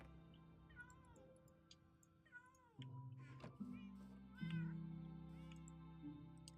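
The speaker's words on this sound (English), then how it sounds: "So many cats. All I hear is mew, mew." Several cats meowing in the Minecraft video game, a series of short rising and falling mews at varied pitches over a steady low in-game hum, with no talk.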